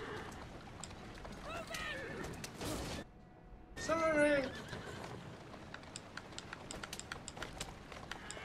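A carriage horse whinnies loudly in Assassin's Creed Syndicate, with a burst of neighing mid-clip over background clatter and rapid keyboard tapping.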